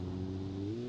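A car engine revving in the BeamNG driving game, a steady low droning growl held for under a second, close and fairly loud with no talk.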